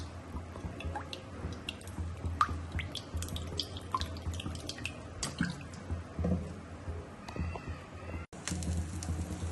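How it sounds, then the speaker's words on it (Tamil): Cooking oil is poured onto a hot stone griddle to fry chicken, with soft dripping, wet splatters and light sizzling pops at close range, steady and fairly quiet. "இந்த கல் நல்லா சூடாயிடுச்சு, அதனால் கொஞ்சம் ஆயில் ஊற்றிக்கிறேன்"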